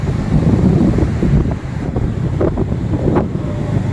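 Strong wind at a beach in Kuakata roars steadily across the microphone with a continuous, loud buffeting rush, with faint surf and passing traffic underneath and no voices.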